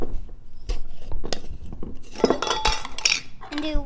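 A spoon knocks and clinks against a metal pot of plant-based chili in a home kitchen, several sharp irregular taps and scrapes building into a busier clatter toward the end, close and fairly loud.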